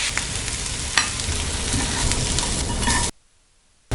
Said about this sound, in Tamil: நல்லா மிக்ஸ் பண்ணி விட்டுட்டு ஆஃப் பண்ணிக்கலாம்.